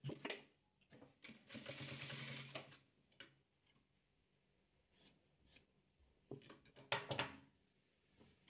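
A sewing machine stitching patchwork fabric, with short bursts of rapid mechanical whirring and clicking between quiet pauses, close and fairly soft, with no talk.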